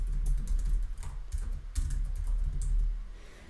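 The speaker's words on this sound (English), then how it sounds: "I'm just going to type in a name called SCORM example." Close, brisk typing on a computer keyboard as a name is entered, a quick run of soft key clicks with short pauses, no talking.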